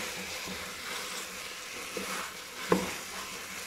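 Sliced okra fries in hot oil, giving a soft, steady crackling sizzle at low volume with a couple of small clicks from the pan near the end; no one speaks.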